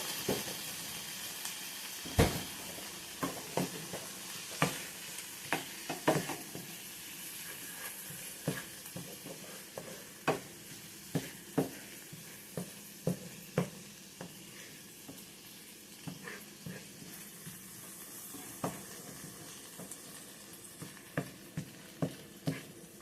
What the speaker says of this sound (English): Just listen to that sizzle.